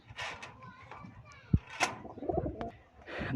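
Rajshahi Giribaz pigeons coo softly in a loft, colour-matched pairs with large leg feathering, while people talk nearby and children's voices and a few sharp knocks break through.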